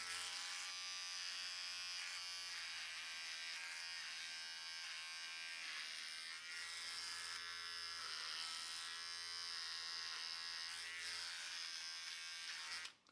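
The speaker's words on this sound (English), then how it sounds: "beard trimmer." Electric beard trimmer run close over eyebrow hair, producing a continuous high-pitched motor buzz that holds steady for the whole stretch with only slight shifts in tone as it moves, then cuts off at the end.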